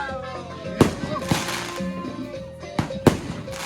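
New Year's Eve fireworks at a camp in Ecuador burst in three sharp, loud booms spaced over a few seconds, over a steady crowd murmur and background music.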